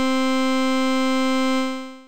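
Padshop 2 granular synth note with two short grains spread 50% in position, a bright, steady, harmonically rich tone held for about two seconds and fading at the end.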